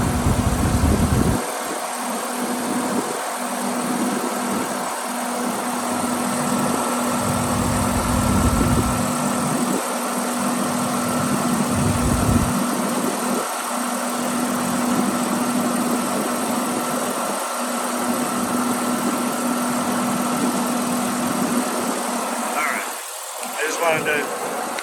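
A 1990 Chrysler TC by Maserati engine idling with the air conditioning on, a steady low mechanical hum with a constant drone running throughout, close and fairly loud, with a brief rise near the end.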